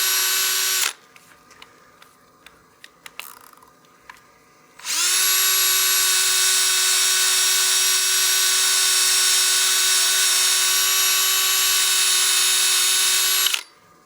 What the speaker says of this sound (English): Go ahead and stop the lathe and take a look.